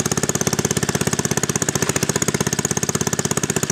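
An old Planet Junior garden tractor's small engine chugs steadily up close, a loud, rapid, evenly spaced putt-putt pulse with no talk over it.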